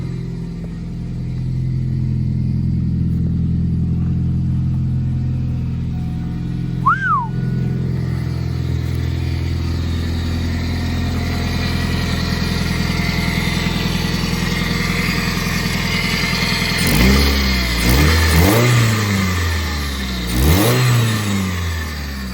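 A Ford Focus ZX3 with a swapped engine idles steadily for a long stretch, then revs several times in quick bursts near the end. A brief whistle-like squeal cuts in early on, and no one talks.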